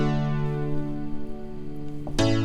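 Sustained synth chords ring out steadily in a looped progression in D, then shift to a new chord near the end, playing alone at moderate volume.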